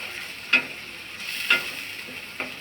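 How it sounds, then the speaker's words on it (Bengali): Ginger fries in hot oil with a steady sizzle, while a utensil stirs the pan with three distinct scraping knocks spaced about a second apart, close and fairly loud. "সেজন্য আদাটাকে ভালো করে ভেজে নিতে হয়।"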